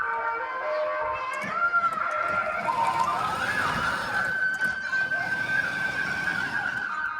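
A toy ride-on car's electronic siren plays from a steering-wheel button, a steady warbling electronic tone held loud and close for several seconds over faint background noise.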